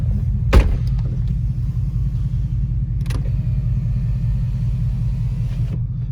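A 2016 Ford Mustang GT California Special with its engine running, a steady low idle rumble that carries through the whole stretch, with a couple of brief clunks over it and no talking.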